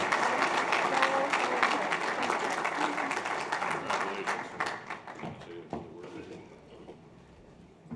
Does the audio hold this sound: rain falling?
no